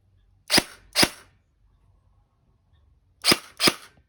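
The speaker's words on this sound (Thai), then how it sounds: "เดี๋ยวผมขออนุญาตยิงเป็นระบบเซมิครับ แบบปอกแสงเดิมเขานะครับ" G&G CM16 Raider L2.0E airsoft rifle fired in semi-auto with a stock tracer unit, four sharp close snaps in two quick pairs separated by a short silence.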